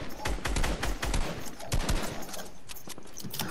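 Rapid video game gunfire from a kid shooting out of a house, a dense burst of sharp repeated shots in quick succession, fairly loud, with faint voices around it.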